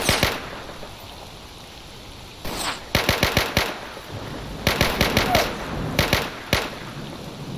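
Bursts of gunfire in the STALKER Anomaly video game, sharp repeated shots fired in quick clusters and single cracks over a faint background hiss.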